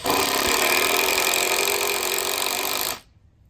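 Makita multi-kit cordless drill driver running a screw, a loud continuous whirring buzz for about three seconds before cutting off abruptly.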